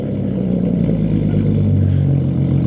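A BMW E46 330ci with a straight-through 3-inch exhaust drones loudly with a deep, steady engine note and slight rise, close and continuous, without speech.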